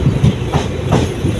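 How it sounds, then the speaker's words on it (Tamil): A passenger train rolls through Punalur railway station on the Kollam–Madurai line, its wheels clattering in a steady clickety-clack, close and loud for the full stretch with no talk over it. "ஓ, இங்கிருந்து ட்ரெயின் போகுதுங்க."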